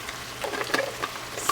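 Picadillo ground meat is stirred in a pan, a short close bout of soft scraping and scuffing over a light sizzle of frying, with no talking.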